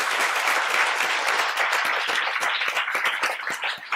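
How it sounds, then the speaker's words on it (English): An audience bursts into sustained applause at a Harvard Law School public-interest event, dense overlapping clapping holding steady and loud for the whole stretch with no voices on top. "you, as far as I'm concerned, deserve a big round of applause"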